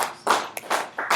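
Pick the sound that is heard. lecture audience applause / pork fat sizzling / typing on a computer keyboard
lecture audience applause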